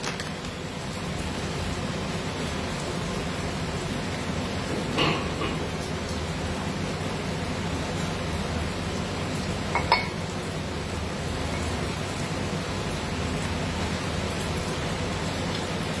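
Steady rain falls in a dense, even hiss with no pauses, and a couple of faint clinks rise briefly above it.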